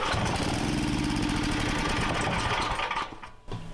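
An old small engine, restarted after sitting more than ten years and given a new spark plug, runs with a loud, steady, close putter, then sputters and dips near the end as it starts to die.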